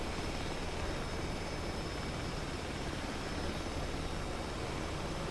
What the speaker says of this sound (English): I think I hear another jet in the groove